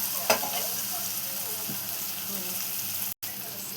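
Harbhara (green chickpea) greens going into a pan of softened onion and tomato, a steady loud sizzle with a few stirring clicks and a brief sharp cut near the end.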